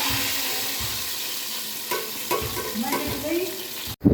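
Finely chopped onion fries in hot oil for a haleem tadka, giving a steady close sizzle with a few light stirring scrapes and a short clatter at the end.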